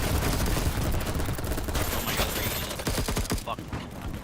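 Gunfire in the video game Battlebit, with snipers firing from far back: a dense, continuous barrage of overlapping shots and cracks, loud and steady throughout.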